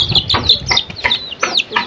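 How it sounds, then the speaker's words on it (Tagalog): Chickens cluck repeatedly at close range on a rural Philippine farm, with short bursts and chirpy calls following one another in a busy, uneven rhythm and no talk over them. "Marami ka pang manok, Teo?"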